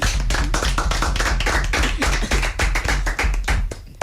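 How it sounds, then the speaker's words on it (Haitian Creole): An audience applauds the singers at a live event, a dense, steady burst of clapping from many hands that fills the whole stretch without talk. "Donc, on applaudit les filles."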